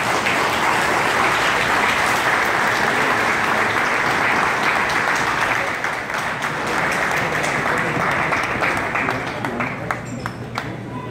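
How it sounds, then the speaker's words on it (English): An audience applauds Guyana's opposition leader Bharrat Jagdeo, a loud, sustained wash of clapping from a crowd that tapers off toward the end. "Let's have a nice round of applause for President Bharrat."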